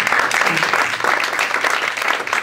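Congregation at a church sermon breaking into loud, dense applause, rapid claps filling the room for a couple of seconds.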